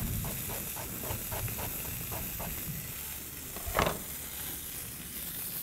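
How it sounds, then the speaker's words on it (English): Chicken pieces sauté in a hot pan with a steady, dense sizzle throughout, plus a few soft stirring scrapes and one brief louder flare near the end. "Sauteing the chicken."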